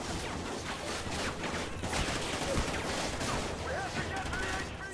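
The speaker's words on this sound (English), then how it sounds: "they're shooting everywhere" Heavy gunfire in the Call of Duty Ghosts Federation Day campaign mission, a sustained barrage of automatic weapons and overlapping shots with crashes and debris, dense and loud from start to finish.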